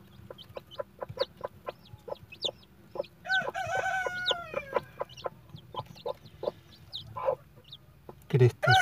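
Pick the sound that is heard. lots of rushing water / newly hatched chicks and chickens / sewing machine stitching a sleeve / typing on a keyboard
newly hatched chicks and chickens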